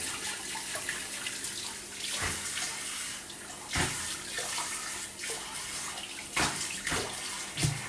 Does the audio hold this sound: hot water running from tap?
yes